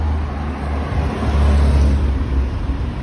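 A Porsche 992 GT3 RS at an old-timer grand prix meeting at the Nürburgring, heard as a steady low engine rumble with traffic-like roar swelling slightly mid-clip.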